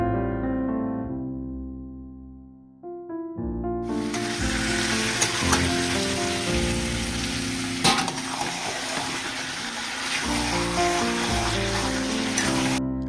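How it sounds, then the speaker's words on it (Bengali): Meat sautéing in a pan with fried onions and spices: tonal music plays alone at first, then a loud, continuous crackling sizzle begins and carries on under the music, with a few sharp stirring knocks. "তারপরে আমি মাংসগুলোকে দিয়ে বেশ নাড়াচাড়া করে যাবতীয় যা মশলা দেওয়ার ছিল সব দিয়ে খুব সুন্দর করে কষাচ্ছি"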